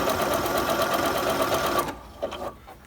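A Bernette b37 sewing machine stitches a buttonhole, its needle chattering in a fast, steady, close-up whir for about two seconds before it stops and a few faint clicks follow.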